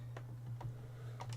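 Soft, scattered keystrokes on a computer keyboard with a broken comma key, a few quiet clicks over a steady low electrical hum, close and faint.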